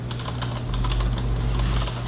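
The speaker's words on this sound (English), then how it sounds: "Test my typing." Rapid typing on a computer keyboard, quick uneven key clicks running continuously over a steady low hum, close and moderately loud with no talk.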